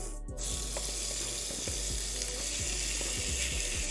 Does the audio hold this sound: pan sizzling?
yes